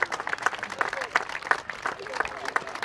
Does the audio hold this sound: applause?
yes